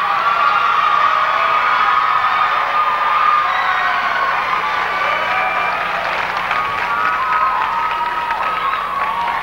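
Pageant audience applauds and cheers for the top finalists at Miss California 2006, a loud, steady wash of clapping with whoops and shouts sustained throughout.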